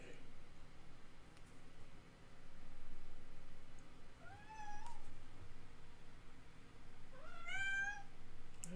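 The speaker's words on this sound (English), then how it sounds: "Yes, baby cat." A small kitten meows twice, at about the middle and near the end, each a rising, clear cry over quiet room noise.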